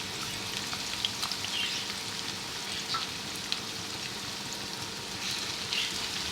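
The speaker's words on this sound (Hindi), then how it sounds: "अब हम इसमें अपने 2 प्याज डाल देंगे जो हमने स्लाइस की।" Sliced onions fry in hot oil in a kadai, a steady, dense sizzle holding evenly throughout with small crackles and pops scattered over the hiss, no voices.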